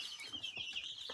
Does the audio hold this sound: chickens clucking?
yes